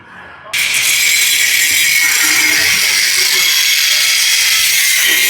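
A power tool starts abruptly and cuts into a diesel pickup truck part with a loud, steady, high-pitched whine that runs unbroken and close for several seconds.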